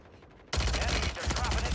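Loud gunfire in a Warzone 3 match on the MP40, a dense burst beginning abruptly after a brief quiet lead-in and continuing close and sustained to the end.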